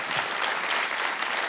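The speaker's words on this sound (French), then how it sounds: "on peut applaudir." Dense, steady audience applause fills a conference hall at an HEC debate with Valéry Giscard d'Estaing, a continuous wash of many hands clapping at even loudness throughout.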